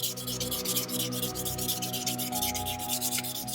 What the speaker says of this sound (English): you start to hear the sanding noise change because the grit is getting finer